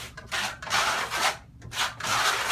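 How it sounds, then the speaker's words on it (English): A steel trowel spreads a second coat of Marmorino plaster in long, rasping scrapes, about four close strokes with short pauses between them. "Second coat application. You're gonna put it on your trowel."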